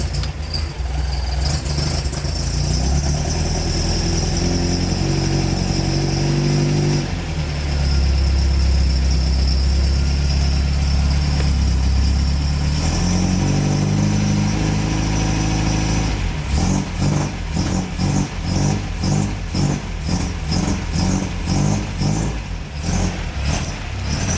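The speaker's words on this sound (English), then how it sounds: "I love the old sound of the car" The engine of an MGB under restoration runs through its new exhaust, settling into a loud, deep idle with a few revs, then turning into a rapid pulsing rhythm as the engine speed changes.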